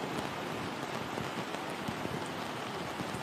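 Rain falls steadily on a coastal golf course, a dense, even patter with scattered individual drops, moderately loud and with no voices.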